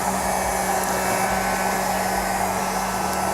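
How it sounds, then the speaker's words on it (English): A heat gun blowing low heat on the glued corners of a GE stove's electronic control board overlay gives a steady, close, airy whir and hum that stays constant throughout. "we're going to use is a heat gun and apply some low heat to it around the corners here"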